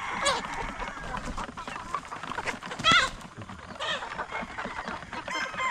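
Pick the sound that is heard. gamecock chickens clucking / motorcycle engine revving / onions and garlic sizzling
gamecock chickens clucking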